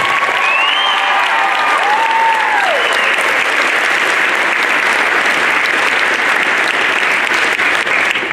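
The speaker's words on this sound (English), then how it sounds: "how about another round of applause for these 20 signees?" Sustained loud applause and cheering fill a school gym for twenty student athletes at a signing ceremony, with a few whoops rising above the continuous clapping.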